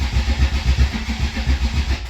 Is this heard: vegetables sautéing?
no